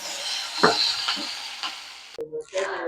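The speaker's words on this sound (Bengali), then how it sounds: "এবার আমি মশলাটা কষিয়ে নেব একটু" Spice paste fries in a pan in Bengali home cooking, a loud close sizzle broken by spatula scrapes against the pan, then a sudden cut and a fresh burst of spattering as more goes in.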